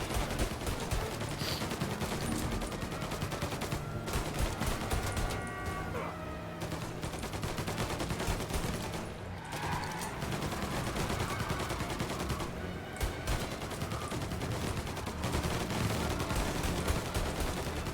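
Continuous heavy gunfire in the video game Mafia as shots are fired at a car during a chase, rapid overlapping bursts with machine-gun fire across the whole scene.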